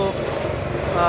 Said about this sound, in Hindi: यहाँ पर थोड़ा सा बैकग्राउंड में थोड़ी सी नॉइज़ चल रही है कंस्ट्रक्शन की,